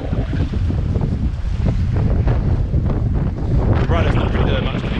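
Strong stormy wind buffets the microphone during stand-up paddleboard sailing, a heavy continuous roar with rushing water and faint voices underneath.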